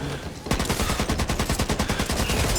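Rapid automatic gunfire in the zombie shooter Back 4 Blood, a loud, dense stream of evenly spaced shots that starts abruptly and keeps going without a pause.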